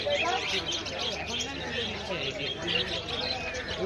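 Small birds chirp and twitter continuously at a busy outdoor bird market, a dense mix of calls under steady crowd noise and nearby talking.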